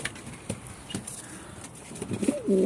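Pigeons coo close by, a low throaty call rising at the end, with soft rustling and a few wing flaps before it.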